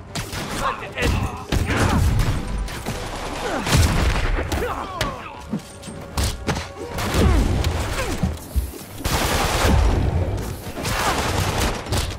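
Sniper gunfire cracks and booms in Marvel's Spider-Man video game, mixed with dense thuds, crashes and mechanical action effects under a continuous busy game soundtrack.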